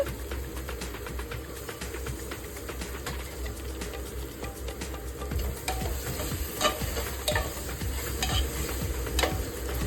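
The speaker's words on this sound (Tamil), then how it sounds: "அதையும் சேர்த்துக்கிறேன். அதையும் வதக்கி விட்டுட்டு" Coriander leaves, a handful, sautéed in a pan for biryani, with a steady close sizzle and repeated stirring scrapes throughout, no talking.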